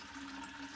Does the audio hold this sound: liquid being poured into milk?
yes